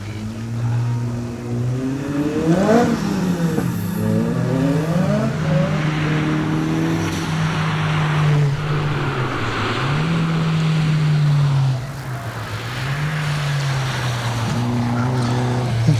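A Datsun 1600 race car climbs a hillclimb course, its engine loud and close with rising and falling revs through repeated gear changes, a brief dip near the end, then pulling hard again; voices are heard at times.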